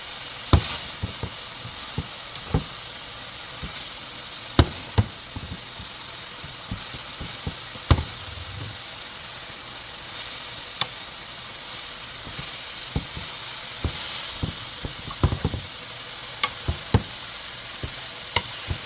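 Cabbage frying and caramelizing in a pan, with a steady soft sizzle and hiss that runs throughout, broken by frequent sharp scraping and clicking as a utensil stirs the leaves.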